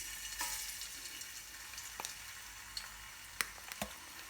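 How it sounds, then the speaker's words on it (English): Ginger and garlic paste frying in warm oil gives a quiet, steady sizzle broken by a few sharp pops and crackles. "once the oil is warm, guys, we're going to put in our ginger and garlic paste"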